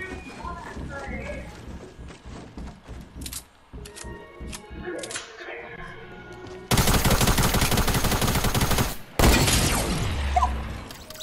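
Pump shotgun fire in a video game, two loud, sustained noisy blasts in the second half, following quieter game sounds and clicks, with voices talking throughout.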